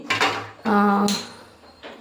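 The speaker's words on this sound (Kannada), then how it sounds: "ಈಗ ನಾನೊಂದು ಬಾಣಲೆ ಇಡ್ತಾ ಇದ್ದೀನಿ" A metal frying pan (kadai) is set down on a kitchen stove with a few clanking knocks and a short ringing metallic resonance.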